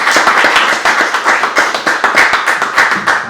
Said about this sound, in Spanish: Quiero que le demos un aplauso al Señor en esta mañana